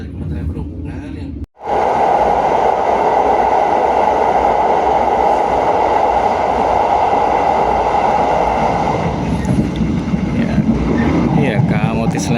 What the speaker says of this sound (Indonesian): KA Motis Selatan baru melewati terowongan hijau